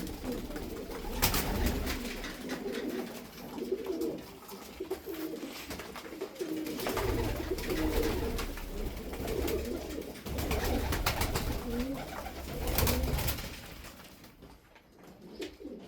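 Pigeons coo softly in repeated low, throaty phrases over a steady background hum, close by and continuing throughout.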